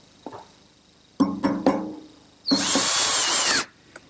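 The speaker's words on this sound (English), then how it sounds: "I'm going to continue using the 1/2-inch bit and plow out some material right in the middle." A router fitted with a 1/2-inch bit plows material from a wooden Queen Anne table part. A few clicks and short bumps lead into a loud, close, sustained high whine of cutting that stops after about a second.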